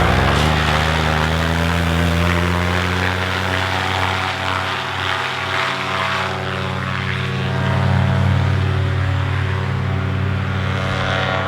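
A paramotor's engine and propeller run at a steady, loud, droning pitch close by on a calm morning, holding an even tone with slight wavering throughout.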